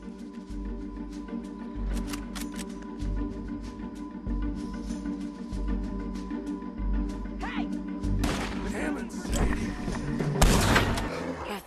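Gunfire in Red Dead Redemption 2 rings out as a string of sharp, evenly spaced shots over a low rumbling music bed, then grows into a denser, louder burst of shooting and impacts near the end.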